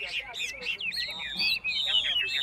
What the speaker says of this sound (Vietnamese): Đấy các bạn nhìn nó núc nó hót lên, nó xù lên cái bộ lông